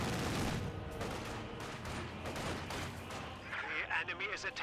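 A quad half-track machine gun lays down suppressing fire in the video game Company of Heroes 2, with rapid bursts of automatic gunfire and scattered shots crackling under a commentator talking throughout.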